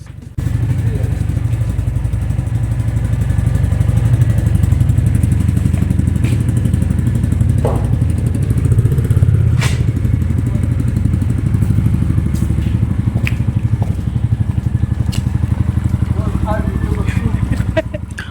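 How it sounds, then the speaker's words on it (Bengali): A motorcycle riding along, its engine droning steadily and loudly throughout with occasional clatter and bumps from the road. "আমি আর মাম বেরোচ্ছে একটুখানি ঘুরতে জিদ্দার বাইকটা নিয়ে।"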